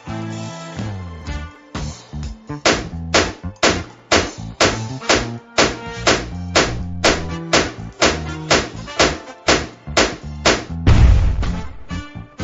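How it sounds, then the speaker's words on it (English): Two axes repeatedly hacking at a school's electrical equipment, giving a steady series of loud, heavy strikes about one per half second, with a louder crash near the end. "so we both have an axe. Now let's destroy it"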